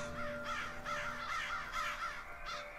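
Crows caw repeatedly in the video game Domina, a series of harsh, evenly spaced calls at moderate volume over a faint steady tone, with no voices.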